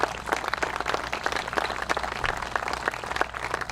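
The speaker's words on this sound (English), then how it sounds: "Let's give a round of applause to our heroes of the audience." Audience applause for veterans at a Fourth of July veterans ceremony, a dense steady patter of many hands clapping throughout with a low hum beneath, moderately loud and without talk.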